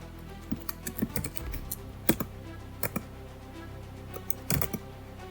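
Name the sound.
typing a command on a computer keyboard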